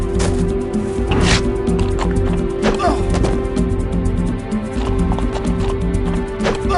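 Clip-clopping centaur hooves from the Heroes of Might and Magic game, a steady rhythmic trot over a constant musical drone with faint squishy, drippy textures and a brief whinny-like sound near the start.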